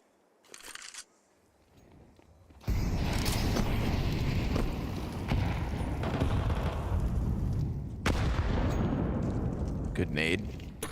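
A grenade blast erupts in a Counter-Strike match, a sudden loud burst that opens into a long rumbling roar, followed by another sharp crack, with a commentator's voice faintly under it.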